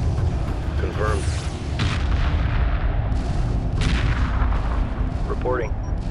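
Explosions rumble continuously as a hyperspace gate is destroyed in the space strategy game Homeworld 2 Remastered, with deep booms and bursts of weapon fire layered under occasional radio-style voices.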